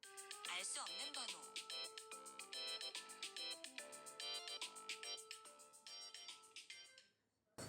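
A mobile phone ringing with an incoming call from an unknown number, a bright repeating electronic melody that plays continuously, fairly faint, and cuts off near the end.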